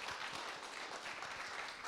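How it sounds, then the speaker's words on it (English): Applause from a livestreamed event audience at Notman House in Montreal, welcoming a speaker named Pierre: a steady, dense wash of many hands clapping, sustained evenly at moderate level throughout with no voices. "let's give him a big round of applause to Pierre"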